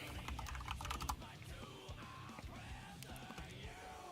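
Fast typing on a computer keyboard, a close run of quick irregular key clicks and clacks, quiet overall, with no voices.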